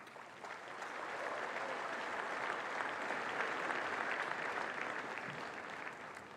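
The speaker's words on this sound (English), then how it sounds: "So please give yourselves a round of applause." A large audience at a bodybuilding competition applauds in a broad, sustained wash of clapping that swells after the first second and holds steady, heard from within the hall.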